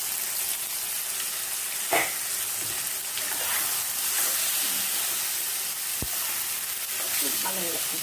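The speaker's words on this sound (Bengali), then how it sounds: "মাছটা একটু চাপা দিয়ে ভাজা ভাজা করছি।" Rohu fish fries in a pan with potatoes and tomatoes as it is pressed down, giving a strong, continuous sizzle and hiss broken by occasional scrapes and clicks of a spatula.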